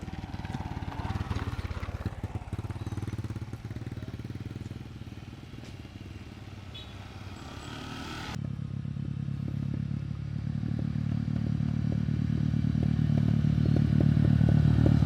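A motorcycle engine hums and rattles throughout, growing louder toward the end, with scraping and clattering noises mixed in.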